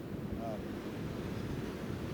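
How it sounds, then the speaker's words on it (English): Sea waves crash against the cliffs at Hermanus, making a steady, rumbling surf roar with wind buffeting the microphone. "The waves, the crashing waves, seem to speak to us."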